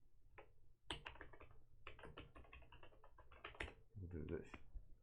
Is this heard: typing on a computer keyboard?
yes